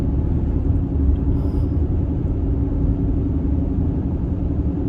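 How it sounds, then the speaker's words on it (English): A steady, dense low roar from the tires of a 2014 Mercedes-Benz GL350 (X166) on the road, constant and droning for the whole stretch, with no voices. "I immediately noticed on the test drive just a roar noise from the tires"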